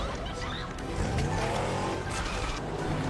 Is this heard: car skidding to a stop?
yes